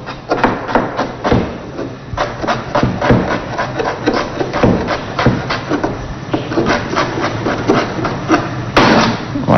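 Knife chopping carrots on a board for a Chadian sautéed green vegetable dish, a quick steady series of sharp close chops, loud and regular, with no talking.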